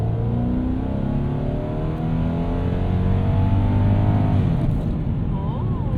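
A 1998 Lexus GS 400 pulls hard from inside the cabin, its engine droning and rising steadily with a brief gear-change break near the end, a continuous close, loud growl with no clear voices.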